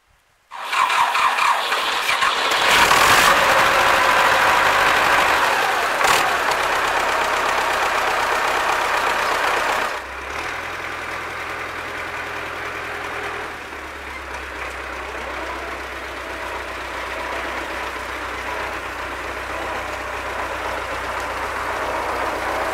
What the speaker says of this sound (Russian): Запускаем трактор.